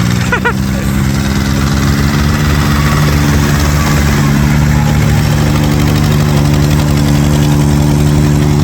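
A tractor engine idles close by with a loud, steady, throbbing rumble that holds an even pitch throughout.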